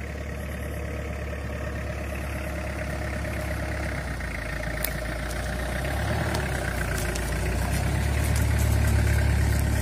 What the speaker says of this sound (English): We are having a drive inside the dense jungle.